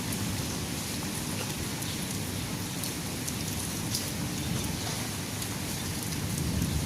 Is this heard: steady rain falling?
yes